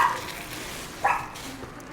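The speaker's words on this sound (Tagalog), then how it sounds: "Pasensya na kayo, may ingay aso sa harapan namin." A dog in front of a house barks a few short, fairly distant yaps spaced about a second apart over quiet room tone.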